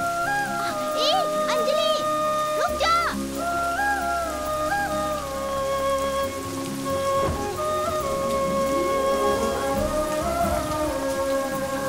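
Steady rain falls through a dubbed Hindi movie scene, a constant broadband hiss running under a music score with sustained tones, loud and continuous for the whole stretch.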